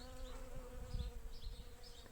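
Bees buzz continuously nearby in September, several insects droning at once with pitch wavering as they move, outdoors with faint background rustle.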